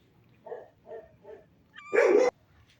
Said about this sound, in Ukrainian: Тільки одна собака загавкала за нею всіх дружно хором.